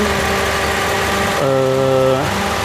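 A used car's engine idles with a steady low hum, shaking hard, with the air conditioning fan on its highest setting, shifting pitch briefly midway as the revs change, then settling back.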